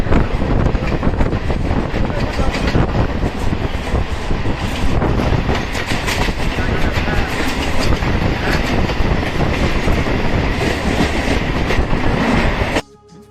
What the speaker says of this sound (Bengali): ট্রেন এখন দৌড়াচ্ছে ঘন্টায় 103 কিলোমিটার বেগে